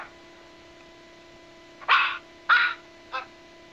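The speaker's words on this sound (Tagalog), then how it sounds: "Can you hear the dog barking?" A dog gives three sharp barks at moderate distance over a steady electrical hum, with no talking.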